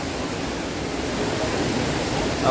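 The Devkund waterfall in Maharashtra pours down in a steady, dense roar of falling water, close and continuous, with no voices.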